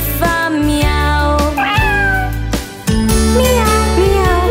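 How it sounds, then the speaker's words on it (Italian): A small female cat meows in a children's song, its mewing woven through loud musical tones and sung melody that fill the whole passage. "È una gatta che è rimasta piccolina, Spirulina che fa miau"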